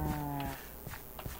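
A cow moos in the Minecraft video game with one short, low, synthetic-sounding call at the start, followed by quiet, faint game noises.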